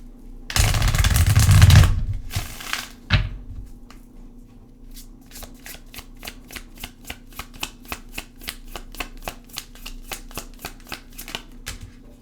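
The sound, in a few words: shuffling a tarot card deck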